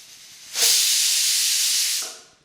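A pressure cooker releases one loud, sustained steam whistle-hiss while broad bean stir-fry cooks inside, bursting in suddenly and holding steady for about one and a half seconds before tapering off, with no talking.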